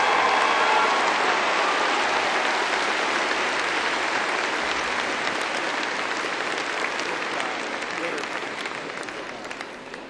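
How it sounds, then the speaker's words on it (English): Sustained applause from the audience at a university commencement ceremony at MTSU, a dense, even clapping that stays loud throughout and slowly fades toward the end. "Let's give him another round of applause."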